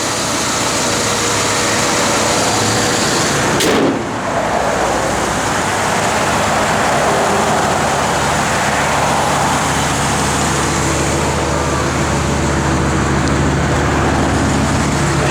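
A 1965 Chevrolet Impala SS idles steadily with a continuous, even engine rumble close by, with a brief louder thump near the start and no talking.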